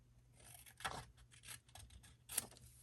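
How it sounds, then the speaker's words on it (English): Paper being cut with small scissors at a tabletop craft session, a few crisp snips standing out over low room noise, fairly close. "I'm just going to cut that angle off."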